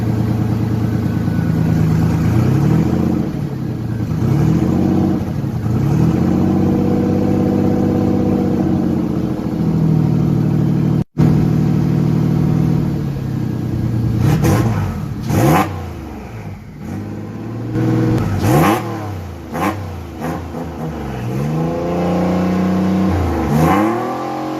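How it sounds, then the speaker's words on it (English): A turbocharged AWD Toyota Camry engine revs up and down repeatedly through a loud, throaty exhaust downpipe, tugboat-like, rising and falling in pitch with a brief cut in the middle. "I decided to give it one last rev on this pipe."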